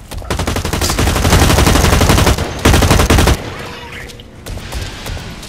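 Tactical SMG gunfire from the video game Blacklight Retribution, a rapid, loud, close stream of automatic shots in two long bursts, ending abruptly and leaving quieter game sounds behind.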